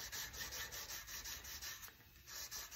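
Fine-grit wet sanding of Les Paul guitar kit parts, a steady close rubbing scrape repeating in quick even strokes throughout, with no voices.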